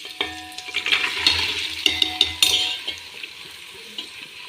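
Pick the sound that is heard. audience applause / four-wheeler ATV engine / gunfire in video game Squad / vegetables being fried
vegetables being fried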